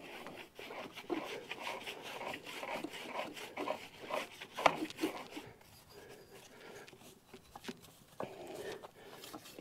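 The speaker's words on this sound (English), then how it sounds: "Give everything a nice brush." A brush scrubbing a muddy mountain bike held in a repair stand, giving steady bristly rubbing strokes in quick irregular rhythm, close and moderately loud, with no voices.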